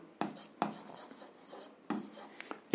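Chalk or marker strokes on a board while working a Ukrainian 7th-grade algebra exercise, a few short scratchy bursts separated by pauses, close and fairly quiet, ending in a louder scrape.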